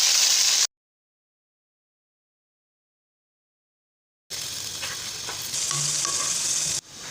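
Marinated chicken sizzles in a hot pan with garlic-ginger paste, a loud steady frying hiss with light stirring, heard in two stretches separated by a long silent gap.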